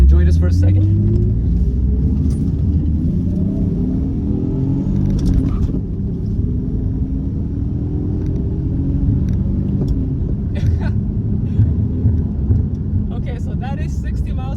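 Car accelerating up to 60 miles an hour, a loud low engine rumble with rising and falling pitch sweeps as gears change, steady road noise underneath, and a few faint clicks.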